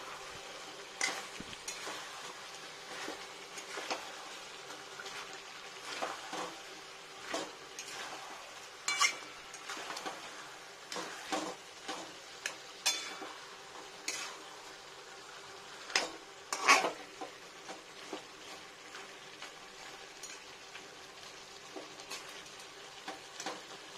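Chicken kosha spiced with nutmeg and ginger paste fries uncovered in a pan, a quiet low sizzle broken by repeated soft scrapes and clicks as the pieces are turned over and stirred.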